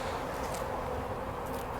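Honeybees hum at an open poly hive in autumn, a steady close buzz of many insects that fills the whole moment without any talking.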